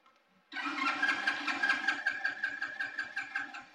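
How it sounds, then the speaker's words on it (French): A motorcycle engine cranks steadily but fails to start, with a rapid rhythmic starter whir and churn lasting a few seconds, close and fairly loud with no voices. "ah la moto démarre pas et tout"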